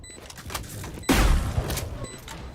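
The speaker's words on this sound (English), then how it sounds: "Picking up the shotgun, using it to destroy the wall." A shotgun blast tears through a wall in a Valorant match. One loud, heavy boom lands with crumbling debris and thuds trailing after it, and a faint metallic ring sits underneath.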